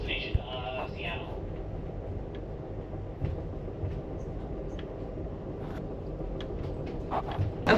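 An Amtrak Coast Starlight passenger train rumbles steadily along the rails with a low continuous roar and faint clicks, while muffled voices murmur briefly near the start.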